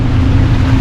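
A Sea-Doo Switch pontoon boat with a 170 Sea-Doo engine running steadily on open water, a loud, close, continuous motor drone mixed with rushing water and wind.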